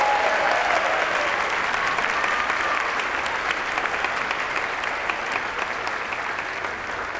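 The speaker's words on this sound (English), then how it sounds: "please stand up for a special round of applause" Sustained, dense applause from a large audience at an economics department commencement as honors thesis students stand, even and full throughout, gradually easing slightly toward the end.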